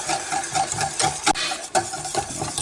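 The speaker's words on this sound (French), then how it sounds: "dès que le liquide est chaud, on remue sans cesse pour éviter que ça n'attache" Lemon cream for a lemon meringue tart being stirred constantly in a pan on the stove, a steady scraping swish with light clinks of the utensil against the pan, close and continuous with no talking.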